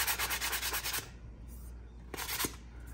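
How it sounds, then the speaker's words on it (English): The back of a mower blade is sanded to remove burrs. A rapid rhythmic rubbing scrape repeats for about a second, pauses, then returns briefly, fairly faint against a steady low hum. "you want to sand the back down just a hair"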